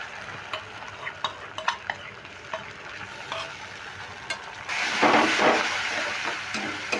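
A pan of frying spices gives a soft sizzle with light spoon taps at first, then a pointed gourd seed mixture goes in and the sizzling swells louder and more hissing.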